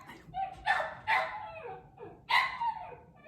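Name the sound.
dog barking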